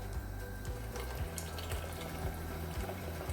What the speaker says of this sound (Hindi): इसमें मैं थोड़ा सा पानी डालूंगी मैं।